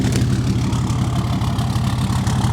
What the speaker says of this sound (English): That exhaust is definitely breathing.